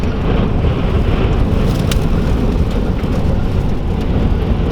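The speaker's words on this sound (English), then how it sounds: "it's still windy here" Strong wind roars and buffets against a microphone outdoors near a parked car in France, a dense, continuous rumbling gust with no talking.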